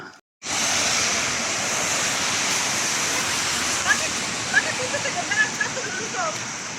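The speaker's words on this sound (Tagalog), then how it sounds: "na talagang malakas na ang ulan." Heavy rain roars steadily alongside rushing floodwater in the UAE, a dense constant wash of noise beginning abruptly after a moment of quiet.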